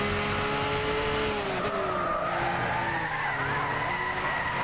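Tires squeal steadily as a car slides sideways in a drift in Gran Turismo 6, engine droning underneath with shifting pitch, loud and continuous throughout.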